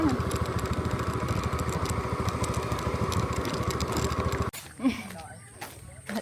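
A motorcycle engine putters at a steady idle near a parking spot at a nature site in Mondulkiri, a fast regular thumping that cuts off abruptly, followed by brief voices and quiet surroundings.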